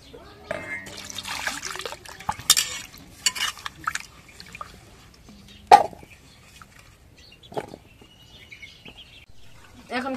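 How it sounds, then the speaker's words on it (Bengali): Cut potatoes tumble into a pot of goat meat curry with soft splashes, knocks and a few sharper clatters, a voice talking quietly in between. "আলুগুলো এখন দিয়ে নেই"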